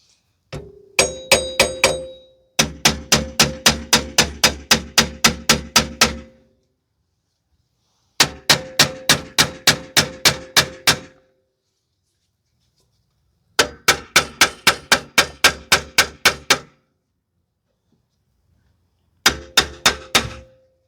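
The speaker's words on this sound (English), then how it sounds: "You may need to use a small hammer or something to whack it off." Repeated loud metallic hammer whacks on the seized rear brake drum of a 2010 Toyota Corolla 1.8, coming in rapid bursts of several ringing blows separated by short pauses, up close with no talking.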